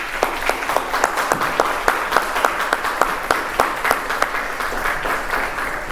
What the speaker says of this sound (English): If we could please, a round of applause to these distinguished guests.